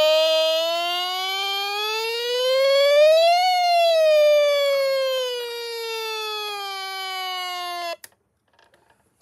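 Cheap fake Chinese toy's sound button playing an electronic siren, a clear wailing tone that rises then slowly falls for about eight seconds before cutting off abruptly, moderately loud and alone.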